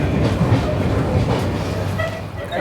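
Saurashtra Janta Express running on rails from Veraval towards Bandra Terminus, heard from inside the carriage as a steady loud rumble with faint rhythmic clatter throughout and a little background chatter.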